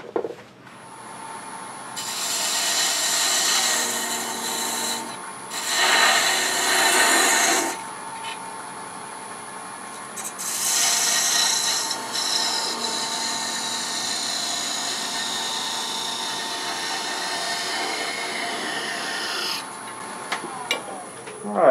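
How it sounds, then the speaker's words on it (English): A thin parting tool cuts off a wooden tenon on a spinning lathe while turning a chickadee ornament, giving bursts of hissing, scraping cuts between quieter stretches of the motor's hum, close and fairly loud. "All we've got to do is come behind here and part it off with a thin parting tool."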